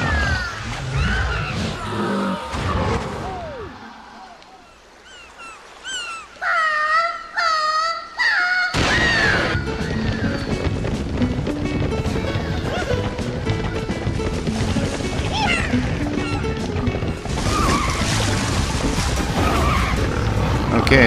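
Warthogs racing in Rayman Raving Rabbids, with squealing animal cries, skidding and engine-like roaring, dense and loud, under game music with a brief quieter break early on.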